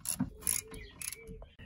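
A ratchet wrench with a 14mm socket tightens brake screws on a Hyundai ix35 handbrake assembly, giving a few quick clicking bursts with pauses between, close and fairly quiet.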